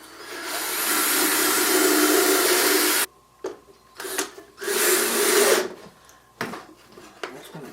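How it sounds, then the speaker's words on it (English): A power drill fitted with a pivot screw bores a hole, running loud and steady for about three seconds, then stopping and restarting in short bursts with quiet gaps between. "Okay, so now we're going to drill our hole"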